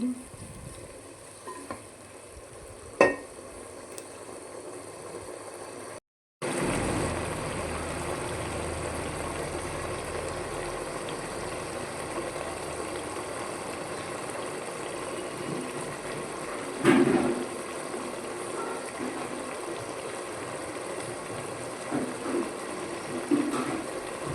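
Brinjal and chana dal curry simmering in a pot, a soft steady bubbling and sizzle with a brief clatter of stirring and a short gap partway through.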